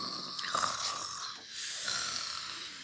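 A person imitates a snoring dog, making two long, raspy drawn-out breaths up close, the second louder and steadier than the first.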